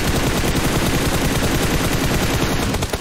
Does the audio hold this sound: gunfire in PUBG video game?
yes